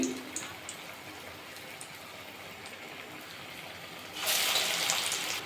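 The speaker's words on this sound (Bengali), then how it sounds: "কোপ্তার মতো করে নিলাম হাতে দিয়ে এবার তেলের মধ্যে দিয়ে দেবো" Cabbage koftas fry in hot oil with a soft, rain-like crackle that swells into a louder, steady sizzle near the end as another piece goes into the pan.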